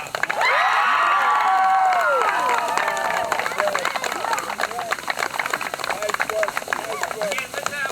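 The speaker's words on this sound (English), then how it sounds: "let's have one more round of applause for all of this year's seniors" Outdoor crowd at a high school football game, Tuckahoe at Rye Neck, cheering and applauding the seniors, with loud shouts and scattered claps filling the whole stretch and voices rising over the noise.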